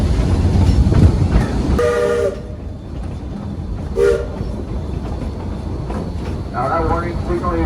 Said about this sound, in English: Now that warning signal you just heard, it means our train is entering a curve